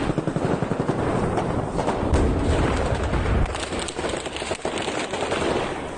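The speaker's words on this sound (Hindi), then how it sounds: "उसी वक्त अचानक से बहुत तेज फायरिंग शुरू हो गई" Loud, rapid gunfire crackles during a protest march in Ukraine, dense bursts of shots and booms overlapping continuously at close range with no clear pauses.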